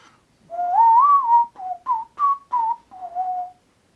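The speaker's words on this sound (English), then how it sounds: "Try whistling the same sort of arpeggio but with tonguing the notes, like this." Clear solo whistling: a sustained rising note followed by five short, tongued notes stepping through an arpeggio.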